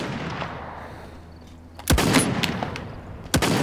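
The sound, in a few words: sniper gunshots in Realm Royale video game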